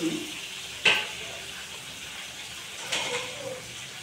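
Potatoes fry in a pan with a faint, steady sizzle. Two brief sharper bursts come from stirring or added ingredients, and the kitchen is otherwise quiet.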